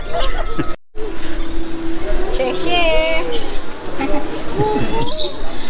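A parrot at Ocean Park gives short chirps and warbling whistles that repeat across the stretch, fairly close, with people murmuring and moving in the background.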